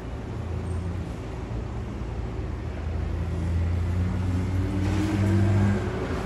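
A Nankai Shiomibashi Line one-man train pulls out of the station in Osaka, a low droning motor hum that slowly builds and rises in pitch as it accelerates away, fairly close and steady.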